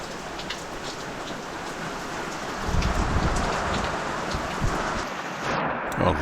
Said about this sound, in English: it's been raining steadily for 4 or 5 hours